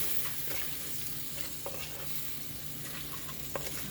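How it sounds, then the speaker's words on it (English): A spoon stirs an onion mix in a sizzling pan for Sri Lankan lamb curry, soft frying hiss underneath with a few light scrapes and taps, fairly quiet and close, no talking. "Then I stir everything in."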